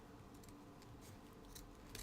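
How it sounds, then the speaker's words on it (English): Quiet, repeated snips of scissors cutting through paper, a few crisp cuts against a soft background hiss. "These are not the best scissors for this"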